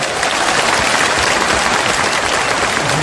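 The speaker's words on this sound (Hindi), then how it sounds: "जोर से ताली बजाएं" Loud, sustained applause from a large crowd packed into Bapu Sabhagar hall in Patna at a political rally, a dense steady roar of clapping filling the whole stretch with no voices on top.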